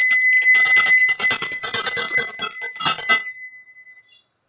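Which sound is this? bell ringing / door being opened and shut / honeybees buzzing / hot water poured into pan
bell ringing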